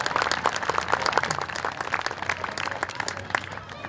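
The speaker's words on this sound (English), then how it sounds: "So give them a big round of applause." Audience applause for young performers at an interfaith festival, a dense steady patter of many hands clapping close by with a faint murmur of voices underneath.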